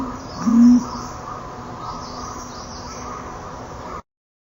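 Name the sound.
pigeon cooing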